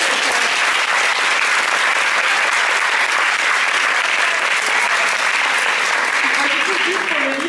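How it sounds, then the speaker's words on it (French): A crowd at a comics expo actors' panel in Paris claps steadily, dense continuous applause filling the whole stretch with faint voices beneath. "l'applaudir pour son français"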